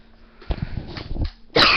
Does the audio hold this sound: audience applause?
no